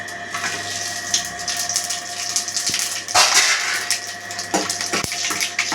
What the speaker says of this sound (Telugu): బిర్యానీ మసాలా ఫ్రై అయిపోయినాయండి